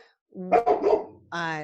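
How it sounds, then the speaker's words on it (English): A small dog barks indoors in a couple of short, sharp bursts close to the microphone, with a high whining yelp after, during a home podcast recording. "He sounds like a really horrible dog, but he's so cute. And he's being the protector."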